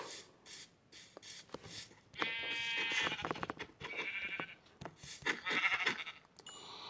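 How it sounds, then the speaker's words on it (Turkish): Several synthetic-sounding Minecraft sheep bleats, some overlapping, interspersed with short clicks and game sound effects, moderately loud. "Zaten bir sürü koyun var etrafta."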